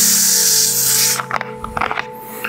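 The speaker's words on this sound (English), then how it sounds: "And top with some soda." Carbonated soda from a CO2 home carbonation setup poured over a cocktail with ice: a steady bright hiss of fizzing liquid, then a cluster of clinks and crackles as bubbles and ice settle, close by.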